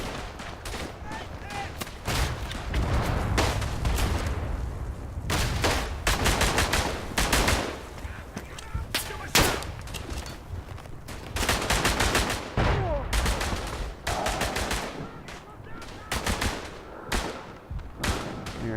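Rifle fire in the World War I shooter Verdun, playing as the Tirailleurs Sénégalais: dense, loud volleys of gunshots and machine-gun bursts with distant booms, rapid and overlapping throughout, with someone talking under the battle.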